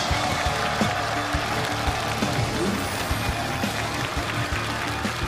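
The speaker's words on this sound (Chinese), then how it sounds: "掌声有请他们出场。" A studio audience on a stage challenge show applauds to welcome a jump rope team. The clapping is dense and continuous, mixed with background music.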